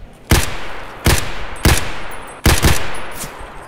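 Four loud gunshots in Escape From Tarkov fired one at a time at uneven intervals, each sharp crack followed by a ringing tail.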